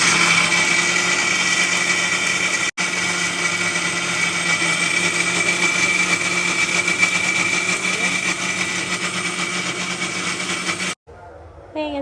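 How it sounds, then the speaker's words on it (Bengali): Kitchen blender grinding ingredients for a homemade hair pack, a steady loud motor whine running nearly the whole time with a brief dropout early on, then cutting off at the end. "এই যে এখন ব্লেন্ডার রেডি করলাম।"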